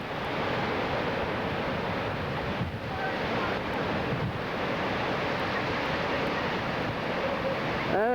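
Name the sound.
wind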